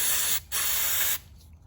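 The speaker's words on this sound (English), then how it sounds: "So make sure you use the proper spray for it. And if you could see, spray it like that." Aerosol cleaner for a mass airflow sensor on a Ford Explorer sprayed up close in two hissing bursts, a long one after a brief pause, then fading.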